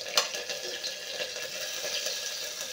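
Onions added to hot oil in a pan, frying with a steady soft sizzle and a brief clatter at the start, close and fairly quiet, with no talk.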